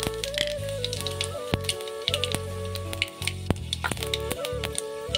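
Dried red chillies and panch phoron fry in hot oil while lentils are being cooked, a close crackling sizzle broken by sharp pops and spits, with a low steady hum underneath and no voices.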